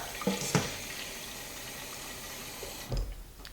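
Water runs steadily from a tap into the water container of an electric makeup brush cleaner, a broad constant rush with a couple of knocks and clunks.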